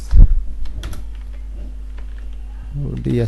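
Fingers tap a computer keyboard while typing code, giving scattered close keystrokes over a steady low hum, with a person speaking at the start and end.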